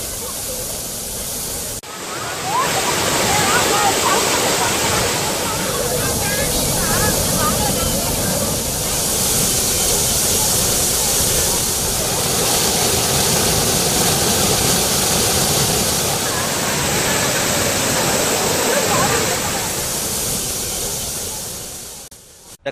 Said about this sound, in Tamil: காவிரி கூட்டு குடிநீர் குழாயில் உடைப்பு ஏற்பட்டு 10 அடி உயரத்திற்கு தண்ணீர் பீச்சி அடித்தது